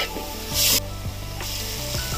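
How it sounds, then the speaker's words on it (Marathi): Onion and tomato fry in a pan with a close, steady sizzle, broken by a few scraping stirs and one brief louder hiss. "कांदा आणि टोमॅटो थोडं नरम होईपर्यंत आपण ठेवून देऊया"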